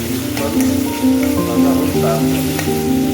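Sliced onion, garlic, ginger paste and green chillies fry together in hot oil, giving a steady close sizzle and crackle under faint tonal background sounds.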